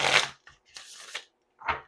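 A small tarot deck is shuffled in three quick bursts of soft card riffling, close and clear with short silent gaps between.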